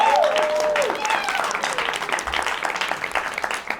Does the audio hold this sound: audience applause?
yes